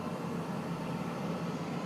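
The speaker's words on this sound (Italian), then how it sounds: "Questo è il rumore della sala macchine." Reconstructed engine room noise aboard a submarine: a steady low mechanical hum and drone, moderately faint and unchanging, with no voices.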